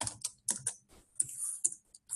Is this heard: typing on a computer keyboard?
yes